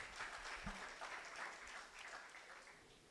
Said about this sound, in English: Again, put your hands together and applaud Camila Candy Isaacs.